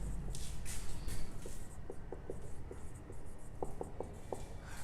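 Chalk or marker writing on a board during a maths lesson, a series of short faint scratchy strokes in quick bursts over a steady room hiss, without clear speech.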